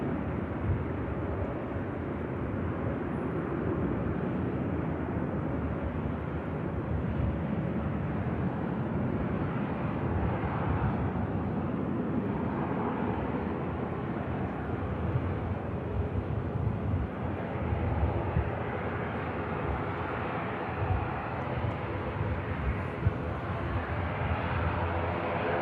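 A heavy TUI Boeing Dreamliner taxies out at Manchester Airport, its engines a steady, broad low roar and rumble that holds without letup throughout, heard from some distance with wind buffeting the microphone.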